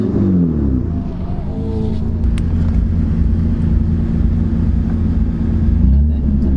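A Toyota Cressida with a manual gearbox idles nearby, a steady low engine rumble with a brief slight rev early on, continuous throughout.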